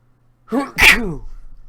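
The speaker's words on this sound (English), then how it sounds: "I think I'm going to sneeze." A single sharp human sneeze, an indrawn gasp followed by a loud explosive burst, heard up close against near silence.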